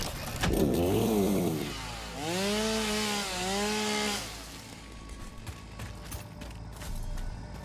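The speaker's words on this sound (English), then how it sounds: "I can say I don't have my chainsaw with me, but I do." Chainsaw cutting wood in the video game Satisfactory, a loud revving whine that rises and holds for a couple of seconds, then a second sustained cut before fading into quieter background noise.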